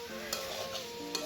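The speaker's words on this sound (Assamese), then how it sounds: "কোমোৰাখিনি দি মই মাংসখিনি ভালদৰে লৰাই ল'ম" Duck meat and pumpkin pieces are stirred in a hot frying pan, giving a continuous low sizzle with two soft scraping strokes of the spoon over a brief stretch.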